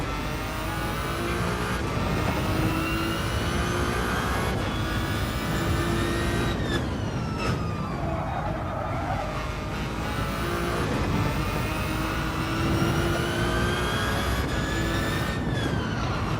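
Peugeot race car in Gran Turismo 7 during a Le Mans 24-hour endurance race, its engine droning steadily with rising and falling gear-change sweeps, loud and continuous with no talk.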